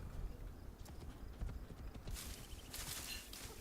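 Steady clip-clop of horse hooves in the video game Assassin's Creed Shadows under a constant rushing background, the rhythm continuing throughout at moderate volume.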